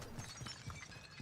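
Glass shattering in a first-person shooter match, a few crisp breaking bursts over a steady low game ambience, fairly faint and close.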